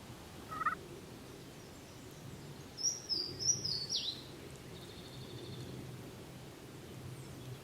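A wild turkey during a spring hunt, a brief call early on, then a rattling gobble a few seconds later, distant and moderately faint over quiet outdoor background.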